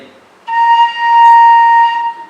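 A single Thai bamboo flute (khlui phiang o) tone jumps to a higher, thinner pitch, a high C from holes not fully covered, and holds for about one and a half seconds, steady and alone, then fades.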